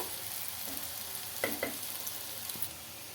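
Poha ingredients frying in a pan, a quiet, steady sizzle with a couple of soft stirring scrapes near the middle and no speech.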